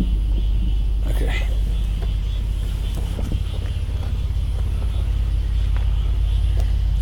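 A Jeep Wrangler JK idles steadily while being shifted into reverse, a close, constant low engine rumble with faint clicks over it and no clear talk.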